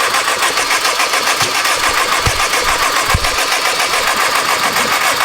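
A car with a forged engine runs at full throttle and sputters: a loud, steady, rough roar with uneven pops and misfires.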